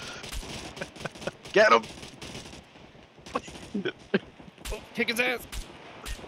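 Gunfire in the survival video game Scum, sharp bursts of shots scattered through the stretch, some loud and close, mixed with excited voices talking over the action.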